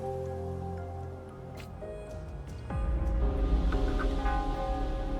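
Rain begins falling in the video game Wuthering Waves, a steady broadband patter that swells noticeably louder partway through over a low droning game score.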